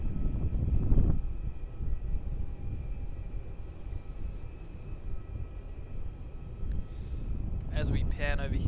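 A jet airliner takes off from Melbourne Airport as a sustained engine roar, loud at first and then fading as it climbs away, with faint voices and other small sounds near the end.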